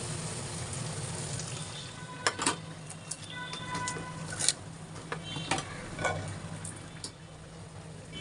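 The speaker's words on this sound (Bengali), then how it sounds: "আমি একদিক দিয়ে পিঠা ভাজছি আর একদিক দিয়ে পিঠা বানাচ্ছি।" Pitha rice cakes fry in hot oil in a home kitchen, making a steady hiss broken by occasional sharp ticks and pops.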